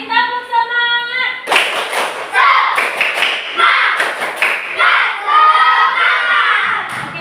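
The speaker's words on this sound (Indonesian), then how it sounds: "Sekali lagi tepuk semangat!" Schoolchildren repeat a rhythmic spirit clap: loud, close volleys of patterned claps and shouted chanting from the group, framed by an adult's sung call at the start.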